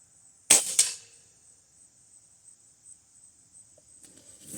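An air rifle fires one sharp, loud shot at a target outdoors, followed by a quick second crack and then quiet with insect buzzing in the background.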